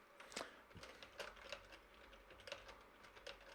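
Quiet typing on a computer keyboard, irregular clusters of soft clicking keystrokes at close range, faint and without talk.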